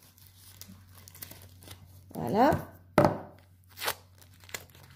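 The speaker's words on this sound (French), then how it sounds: "Moi, je fais du scotch. Je mets du scotch." Adhesive tape pulled off a roll and pressed onto a homemade face mask: a couple of sharp ripping tears followed by a brief crinkle, close and fairly quiet, with a short spoken word near the end.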